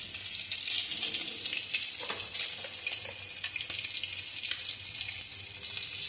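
Boiled eggs fry in very hot oil with a continuous, close, crackling sizzle and occasional louder spits, with no talking.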